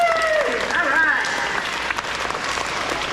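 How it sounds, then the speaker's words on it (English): A school audience claps steadily at an elementary school awards ceremony, a dense, continuous wash of applause that fills the room, with a voice calling out over the start. "Let's show that we think they did amazing. Let's give them a clap."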